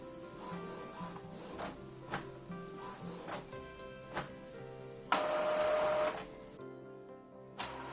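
An Epson XP-3100 inkjet printer initializes after fresh ink cartridges are installed, its mechanism whirring and clicking in repeated bursts, with a louder steady motor run near the end and a final click, close up and alone.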